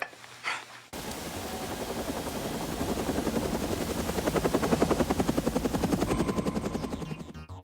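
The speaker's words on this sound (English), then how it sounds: "you forget about the helicopter coming down and shooting the office up" A full-scale helicopter rig in a film action scene comes down and shoots up an office: after a short quiet opening, a loud, continuous rotor chop rises and pulses steadily up close.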